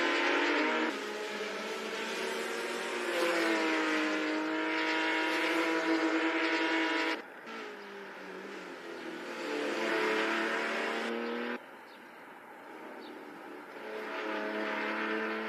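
Race car engines roar in a virtual racing video game, loud sustained high-revving drones that shift pitch through gear changes, cutting abruptly between cars, with no voices over them.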